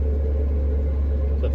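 A truck engine running in freezing cold weather gives a steady, close, low rumble with a constant idle drone and no clear rise or fall.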